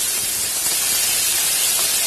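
Continuous loud sizzling hiss of chopped onions frying in hot oil with fennel seeds, close and steady throughout with no voices.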